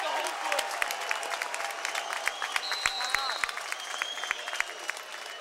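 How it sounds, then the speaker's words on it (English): A basketball crowd at a Norristown Eagles district semifinal against Pennsbury stands and applauds, dense continuous clapping filling the gym, with scattered sharp claps and cheering mixed in under a commentator's voice. "The crowd on their feet to salute their Norristown Eagles as they come onto the floor for the fourth"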